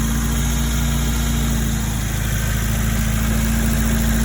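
A 2002 Acura RSX Type S engine idles steadily with a low, even hum and constant vibration, with no surging, under light background noise and no talk.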